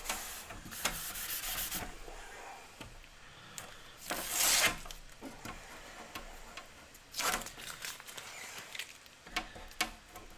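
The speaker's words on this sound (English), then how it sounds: "Squeegee it on down there." A squeegee pressed down over a vinyl sheet, giving a few brief, fairly close rubbing swipes with quiet scraping and ticking in between.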